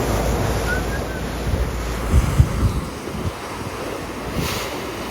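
Ocean waves break and crash against rocks, a loud continuous roar of surf mixed with gusty wind buffeting the microphone, with a few heavier surges partway through.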